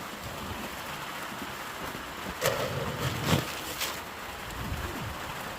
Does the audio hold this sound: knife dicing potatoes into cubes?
no